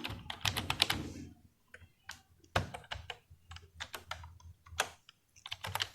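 Fast typing on a computer keyboard while C code is entered, with close rapid clicks in uneven bursts and short pauses, plus a few heavier key thumps like the space bar or enter.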